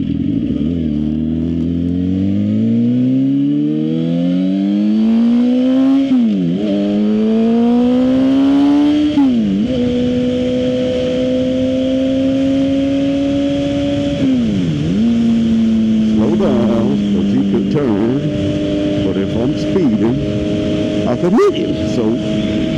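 A Suzuki GSX-R 750 sport motorcycle rides along, engine loud and close as it climbs through gears, revs rising and dropping at each shift, with steady wind rush throughout.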